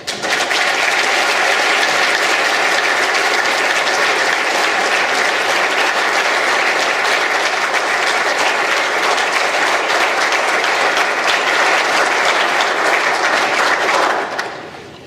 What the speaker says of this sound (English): Join me in giving these men a round of applause.